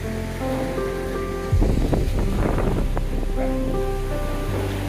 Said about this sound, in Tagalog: Ito yung bagyo.